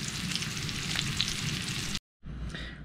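Small pork loin pieces sizzle and fry in a pan, a steady dense crackle that runs unbroken, cuts out for a brief moment, then resumes just as loud.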